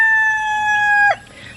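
A rooster crowing on a homestead among a flock of chickens, one loud, close, sustained crow that cuts off abruptly, followed by quiet farmyard background.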